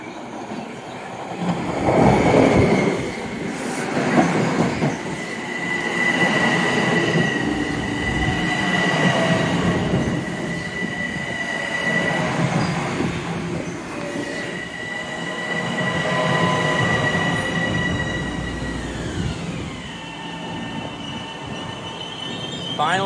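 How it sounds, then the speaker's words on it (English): A Metro-North commuter train pulls into Crestwood station and terminates there, its rumbling cars rolling in steadily with rising wheel squeal and clickety-clack. Brief murmured talk is heard under the train. "And here's our last train we'll see at Crestwood."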